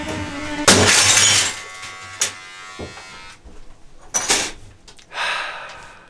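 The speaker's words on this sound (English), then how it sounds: "The glass, the mirror broke." A glass mirror shatters during a home haircut, giving a loud close crash followed by scattered tinkling pieces and a few later clatters against a quiet background.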